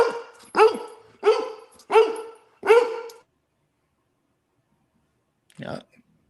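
A dog barks four times in a quick, evenly spaced burst, loud and close, then falls silent before a short muffled vocal sound near the end.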